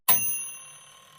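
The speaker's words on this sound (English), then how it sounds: "The oven bell rang out" Bell on a mechanical oven timer gives a single bright ding when the countdown ends, ringing out clearly and fading slowly over about a second with no other sound.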